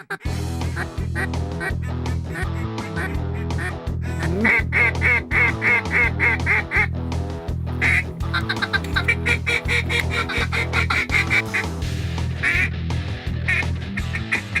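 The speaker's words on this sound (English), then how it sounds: "Just watching him call ducks in and then being able to shoot a shot, I could have watched him all day." During a duck hunt, rapid rhythmic quacking, likely from a duck call, repeats in steady loud bursts close by for the whole stretch, with no talking.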